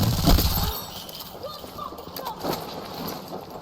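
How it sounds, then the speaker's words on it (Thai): Quick running footsteps from behind a player in a Battlefield 6 Breakthrough match, a loud thump at the start followed by patter and clatter over game ambience and speech-like sounds. "ได้ยินเสียงคนวิ่งข้างหล"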